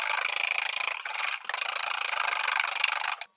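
Egg yolks and coarse sugar whisked by hand in a bowl for homemade eggnog: a fast, continuous, close scraping and rubbing that dips briefly twice before stopping.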